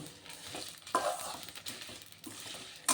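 A spoon stirring pickle spice masala in a pan, close scraping and shuffling with soft sizzle and a few sharper metallic knocks against the pan, no talking.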